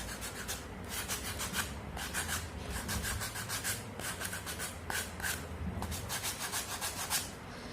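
Rhythmic back-and-forth rubbing across a waxed, painted surface being distressed, a steady scratchy scrubbing at close range with regular strokes and no speech.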